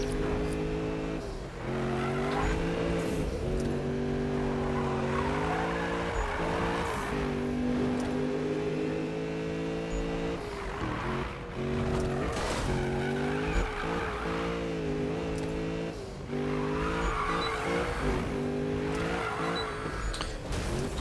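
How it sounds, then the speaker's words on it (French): A car drifting in the video game Need For Speed, a steady revving engine with sustained, wavering tire squeal running nearly unbroken for about twenty seconds, close and loud. "le drift est meilleur que dans The Crew"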